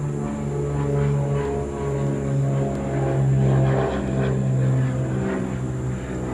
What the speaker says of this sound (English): hold on, got a plane flying.